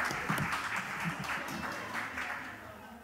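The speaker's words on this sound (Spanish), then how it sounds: "Aplauso para Marquito porque voluntariamente está saliendo." Applause from an audience at a church session on teaching children biblical principles, as a volunteer steps forward; steady, fairly dense clapping that holds for about three seconds and fades slightly toward the end.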